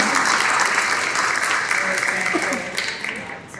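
An audience at a school co-teaching information night claps, a dense, steady round of applause that fills the room and tapers slightly toward the end.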